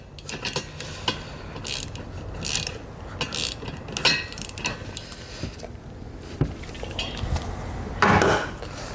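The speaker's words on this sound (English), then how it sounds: "we'll come back with a 1/2 inch socket here. We'll go ahead and tighten those down." Ratchet with a 1/2 inch socket tightening nuts while installing a B and W Companion 5th wheel underbed kit on a 2021 GMC Sierra, giving repeated close mechanical clicks and creaks in uneven strokes without speech.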